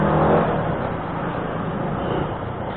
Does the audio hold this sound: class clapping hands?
no